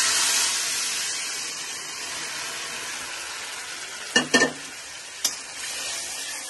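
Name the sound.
stirring dal with turmeric powder in a pot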